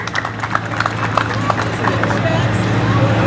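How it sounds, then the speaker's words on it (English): An outdoor crowd at a Pride flag raising in a town center applauds with scattered, uneven claps, loud and close, over a steady hum and crowd murmur. "Give yourselves a round of applause for coming out to support the organization and the community."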